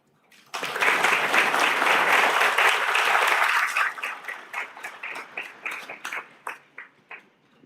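An audience at a university orientation ceremony breaks into loud, dense applause for several seconds, then thins into scattered individual claps that trail off.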